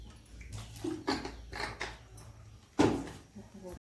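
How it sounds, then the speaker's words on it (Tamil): Water is poured into a cooking pot in a home kitchen, with splashing bursts that come and go over a few seconds, close and fairly quiet, ending in one louder pour. "திட்டமாக வேகிற அளவுக்கு தண்ணி ஊற்றிங்க"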